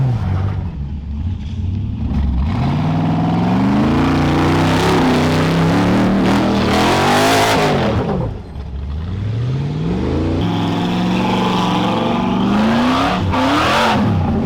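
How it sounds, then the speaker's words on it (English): A loud Jeep engine revs hard and climbs repeatedly while rock crawling, bouncing off its rev limiter at the top of its range, with rushing roar and mechanical whine throughout. "Not often do you hear the rev limiter on my Jeep, but I think I caught it a little bit there"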